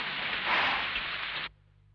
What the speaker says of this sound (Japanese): 3日目の夜、降りしきる雨の中